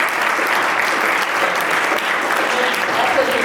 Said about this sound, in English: Last round of applause for our panelists